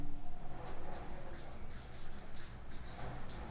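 A pen scratching out a class X maths solution on paper, with short strokes repeating in an uneven rhythm, close and fairly quiet against a steady background hiss.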